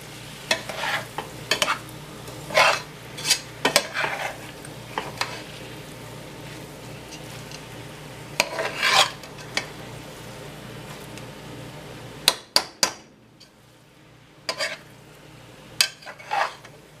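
A spoon stirs flour into chicken pot pie filling with vegetables in a hot pot, giving scattered scraping and clinking strokes in short bursts against a quiet background.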